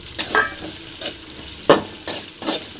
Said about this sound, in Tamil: நல்லா ஃப்ரை பண்ணிடலாம்